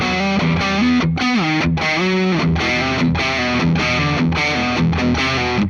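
A distorted electric guitar on a Les Paul plays a metal hammer-on riff, loud and close, with rapid repeating legato notes and brief breaks between phrases.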